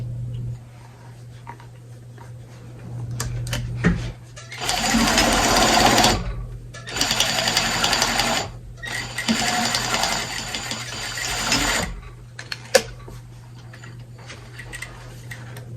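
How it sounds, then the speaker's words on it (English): Sewing machine stitching along the edge of a fabric potholder in three loud bursts of rapid whirring, separated by pauses with light clicks and a steady low hum underneath. "I'm just going to sew this down right to the very edge"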